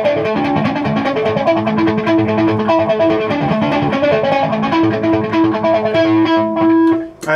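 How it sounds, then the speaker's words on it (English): An electric guitar plays through a delay or echo pedal, its picked notes repeating and trailing into each other in a dense, continuous wash that fades briefly near the end. "if you do have a delay pedal or an echo pedal that can play at just that"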